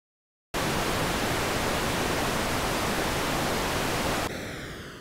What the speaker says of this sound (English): pitching an audio region of noise in a sampler.